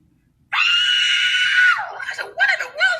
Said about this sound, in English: I heard a screeching sounded between a screech and a whistle.